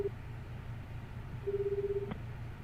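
Cell phone dialing tones in the 428 Shibuya Scramble video game: a short beep at the start, then one longer steady tone ending in a click, over a low hum, quiet and alone.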